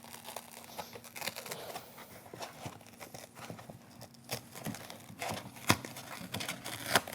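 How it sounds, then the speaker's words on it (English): Kaizen foam being peeled apart by hand, giving a run of close crinkly, tearing crackles with scattered sharper snaps, steady and alone. "you start to peel away your kaizen foam"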